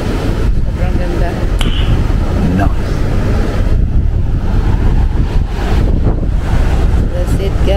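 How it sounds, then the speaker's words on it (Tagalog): Strong ocean waves at a beach on Nusa Penida, a loud, constant roar of surf mixed with heavy wind buffeting the microphone, with a voice speaking over it. "Sobrang lakas talaga ng alon dito sa kanila guys."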